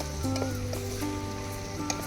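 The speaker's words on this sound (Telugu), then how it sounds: "ఈ ఆనియన్స్ గోల్డెన్ బ్రౌన్ కలర్ వరకు ఫ్రై చేసుకోవాలి." Onions, green chillies and curry leaves fry in hot oil, a steady close sizzle with occasional crackles and faint stirring, no voices.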